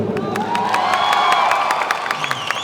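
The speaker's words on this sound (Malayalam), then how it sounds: "ഒരു പ്രാവശ്യം കൂടെ ആ കയ്യടി തരുമോ?" A live stage audience gives a sustained round of clapping and cheering, dense and steady, with scattered whoops over the applause.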